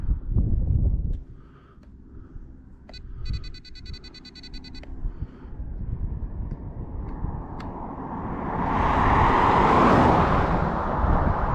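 An HPI Maverick Quantum RC car reverses out of a tight spot, its electric motor whining and rising into a louder, brighter rush toward the end, with a steady rumble of road or traffic noise underneath and no talk.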